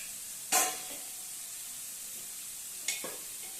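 Masala is sautéed in a hot pan, a low steady sizzle broken by two brief bursts of louder hissing and stirring about two seconds apart.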